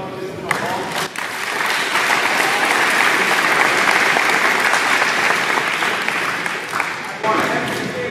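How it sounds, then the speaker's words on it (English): Basketball camp participants burst into loud, sustained applause in a gym, a thick wash of many hands clapping with some crowd voices underneath. "You did give yourself a good round of applause."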